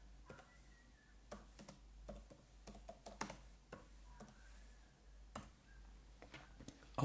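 Keys on a computer keyboard click in irregular quiet taps, close and soft, spread across the whole stretch with no talking.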